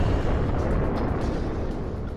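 An asteroid impact explosion roars as a loud, continuous, deep rumble with dense low-end noise that stays heavy and steady for about two seconds, with no voices.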